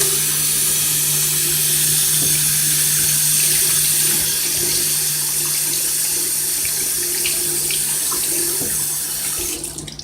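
Tap water runs steadily and fairly loud as it rinses out a garden plant sprayer at a sink. The rushing hiss is continuous for about ten seconds and tapers slightly at the end.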